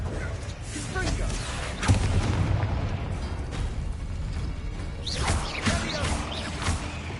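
Blasting-spell explosions in a Harry Potter video game: a heavy boom near two seconds and another burst around five seconds, set within dense, continuous game noise.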